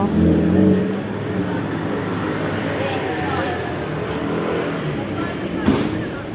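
Steady road traffic rumbles past a cyclist on a ride toward Paşaköy, Balıkesir, with continuous low engine noise and a brief louder swell near the end, as though a vehicle passes close by.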